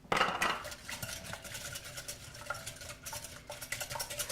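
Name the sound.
stirring thick batter in a bowl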